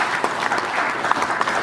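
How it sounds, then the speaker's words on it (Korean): Brief applause from guests at a Korean book launch celebration, a short burst of crowd clapping heard close and fairly loud, ending quickly. "여러분 다시 한번 박수"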